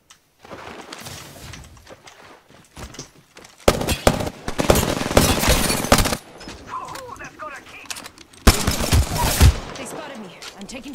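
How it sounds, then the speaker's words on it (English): Video game gunfire comes in two heavy bursts of rapid automatic shots, loud and close, separated by quieter stretches of background game sound. "Shots."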